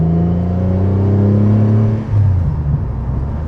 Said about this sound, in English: The way it revs up.